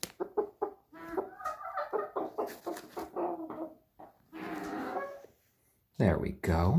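Chickens, including a rooster, cluck and murmur close by while a person talks softly to them, with a brief louder squawk near the end.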